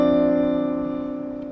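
A single sustained piano chord from a passage of a song rings out clearly and slowly decays, with no talking.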